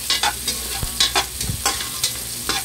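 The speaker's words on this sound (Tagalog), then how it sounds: "lagay na natin ang bawang at saka sibuyas" Garlic and onion sauté in a pan, a loud close sizzle with rhythmic stirring scrapes and a couple of low thumps, continuous over the short stretch without talk.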